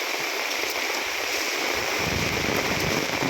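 Floodwater rushing across flooded rice fields, a dense, continuous roar of flowing water like a strong stream or surf, loud and steady throughout with no voices.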